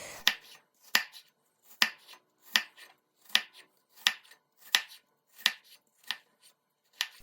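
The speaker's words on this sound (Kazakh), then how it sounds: "Алманы осылай жұқа қылып кесіп шығамыз." A knife cuts apples into thin slices for a French-style galette, giving about a dozen crisp, evenly spaced cutting strokes close up, one every half second or so, with no voices.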